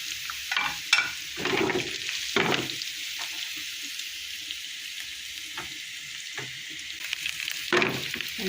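Cumin tempering (tadka) for mash daal crackles in hot oil as a close, steady sizzle broken by repeated stirring scrapes and bursts of louder spattering, with no speech.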